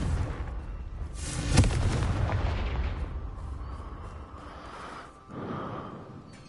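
A Confringo fire-blast spell going off in Hogwarts Legacy, a heavy booming blast with a rumbling fiery whoosh that fades, then a smaller burst near the end.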